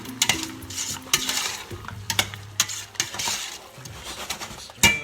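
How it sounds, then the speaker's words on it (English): White wine deglazes a pan for homemade chicken noodle soup. A spoon scrapes and clinks against the pan in quick, uneven strokes over a low, intermittent sizzle. "deglaze the pan a little bit."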